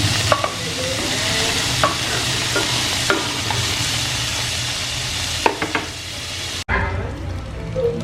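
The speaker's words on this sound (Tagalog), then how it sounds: "nagisa na natin yung ating sahog" Meat frying in a little cooking oil, a loud continuous sizzle with regular stirring scrapes of a utensil in the pan, close up, ending in a brief quieter moment.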